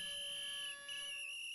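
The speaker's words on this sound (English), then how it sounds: "If you don't know what a dog whistle is," A shrill, steady whistle tone holds constant throughout, with a brief dip partway, played alone with no talk; a dog whistle is meant.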